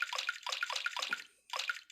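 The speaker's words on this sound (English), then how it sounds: "we're gonna go with regular tap water, honestly, because it's the simplest option. We'll just pour that in there." Water poured into a bowl in the Nintendo DS game Petz Dogz Pack: a run of short, bright splashy bursts in quick rhythm, a brief pause, then more bursts, close and clear with no talking.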